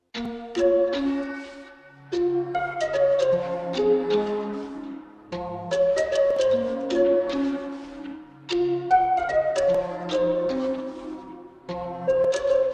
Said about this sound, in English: So first off, I just kind of start with the piano.